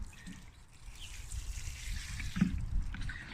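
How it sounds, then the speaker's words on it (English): A watering can pours a soaking of water over freshly planted potatoes, making a faint, steady trickle and splash that runs without a break. "So with your watering can, you're going to give it a nice soak."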